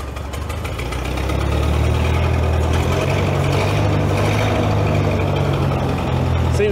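Old CAT Towmotor forklift, long-idle and seatless, runs with a steady low engine drone that swells after the first second and holds close and loud while the machine creeps forward and back.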